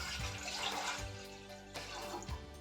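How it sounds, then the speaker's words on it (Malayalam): Water pours into a saucepan for boiling pasta, a close, steady gushing splash that eases briefly near the middle before continuing, with no voices. "വെള്ളം ഒഴിക്കാം"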